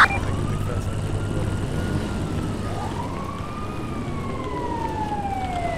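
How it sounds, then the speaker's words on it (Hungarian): An ambulance siren in the GTA V video game, wailing up and down in long sweeps over steady traffic rumble as it approaches, loud and continuous, with faint talk in the background. "Mentő jön erre. Ja, mentő lesz az."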